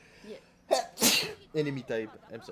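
A single loud sneeze bursts out in the middle of casual online-gaming chat, with voices speaking just before and after it.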